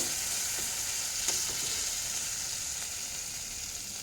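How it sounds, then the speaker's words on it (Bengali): Boiled potato frying with ginger and garlic in a kadai, a continuous close sizzle with a few soft stirring scrapes near the start, steady and without talk. "এই যে এখানে আদা রসুনটা কষিয়ে নিয়ে আলুটা কড়াইতে নাড়বো।"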